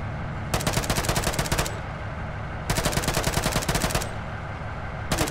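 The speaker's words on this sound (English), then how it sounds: "Keep machine gun suppression on." Bursts of automatic machine gun suppression fire in the military video game Arma 3, three sustained rapid volleys about a second long each, separated by short pauses, loud and close with no talk.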